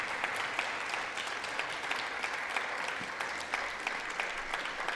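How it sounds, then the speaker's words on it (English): Sustained applause from Democrats filling a large hall, many hands clapping in a continuous dense roar with a few sharper individual claps standing out, steady in level throughout. "Listen to them clap."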